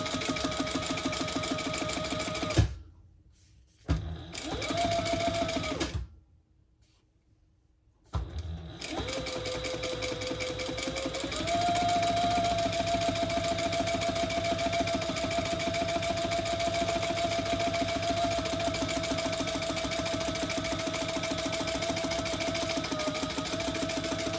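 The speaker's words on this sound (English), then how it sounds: "now we're going to just do 2 rows of top stitching" A sewing machine runs top stitching rows on a diaper backpack, humming steadily and close, with two short pauses early on before a long continuous run.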